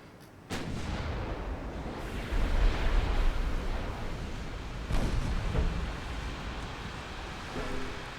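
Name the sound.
warship guns firing in video game Ultimate Admiral Dreadnoughts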